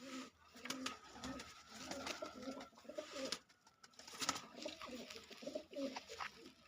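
Pigeons of a Punjabi Malwai breed coo repeatedly close by in soft, rounded bursts that rise and fall in an uneven rhythm, fairly quiet and with no speech.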